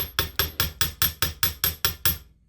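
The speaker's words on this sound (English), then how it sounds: "Hitting it with a chasing hammer will also harden the wire" A chasing hammer strikes metal wire for jewelry wire wrapping, eleven sharp, evenly spaced metallic taps in a steady rhythm, close and clear with no talk.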